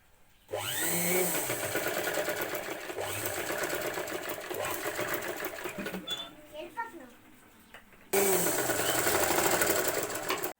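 An electric sewing machine stitches piping onto a prince-cut back-open blouse with a normal presser foot, fast and loud in two bursts separated by a quieter pause, while someone talks over it.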